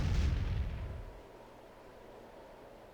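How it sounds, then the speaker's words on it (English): A smoke bomb bursts in the Tales of Vesperia video game: a loud, muffled boom in the first second that fades into a low, dull rumble, with nothing else heard. "How does smoke bombs even work in the desert?"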